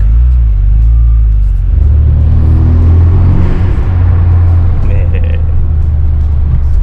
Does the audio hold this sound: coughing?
no